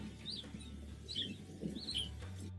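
Naked mole rats in a zoo colony giving soft, high chirps like little birds tweeting, three or four brief calls spaced across a quiet, faint background.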